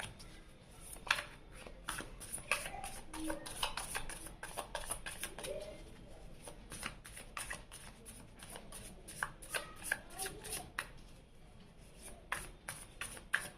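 Tarot cards are shuffled by hand in a steady run of soft, papery riffles and taps, close and fairly quiet, with no talking over them.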